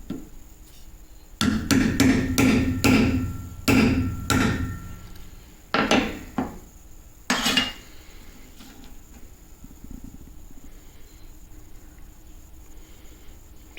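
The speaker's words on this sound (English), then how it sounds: "I'll use a chisel and break this one open so we can see what the material looks like on the inside" A chisel strikes and breaks open a small cured grout sample with sand-sized aggregate, giving a cluster of sharp, close hammering knocks followed by a few spaced single blows.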